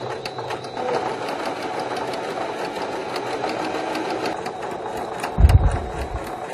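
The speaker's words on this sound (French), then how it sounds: "On coud le biais comme précédemment." A domestic sewing machine stitching bias binding around fabric, a close rapid mechanical chatter running steadily for several seconds, ending with a brief louder clunk.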